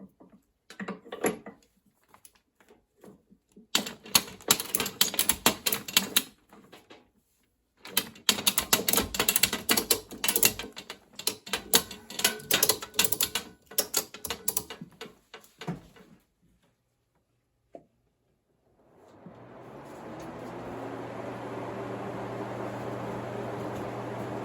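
Ratchet straps cranked tight around a restraint drying box for handmade paper sheets, heard as several close bursts of rapid clicking with pauses, followed by a steady fan whoosh switching on near the end.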